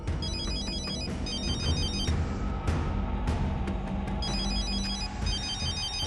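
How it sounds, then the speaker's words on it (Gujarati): A telephone rings with a repeating electronic ringtone pattern, several bursts of bright chiming tones separated by short gaps, fairly quiet and clear with no talking. "કિયારાનો ફોન?"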